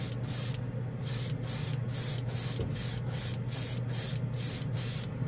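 Quick passes of Splash color shift spray paint hiss in regular bursts, about nine short sprays separated by brief gaps, close and steady, over a low background hum.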